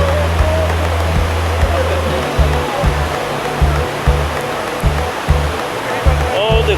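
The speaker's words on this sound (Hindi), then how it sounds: "पानी छल्ला मारता होया सतलुज दरिया का" The Satluj river at Ropar, Punjab, rushes and ripples in a loud, steady broadband wash, with a low intermittent hum underneath and no talk.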